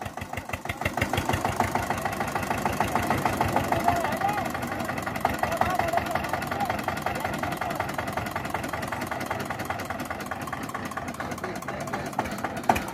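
An old Eicher tractor engine chugs steadily in a wet, ploughed field, a close, rhythmic diesel thumping that holds a constant idle-like pulse throughout, with a voice briefly talking over it.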